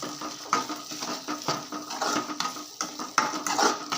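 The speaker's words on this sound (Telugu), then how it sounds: "మొత్తం కలిసేలాగా కలిపేసుకుందాం" A metal spoon stirs fish curry with spices in a pot, giving repeated close clinks and scrapes in an uneven rhythm of strokes.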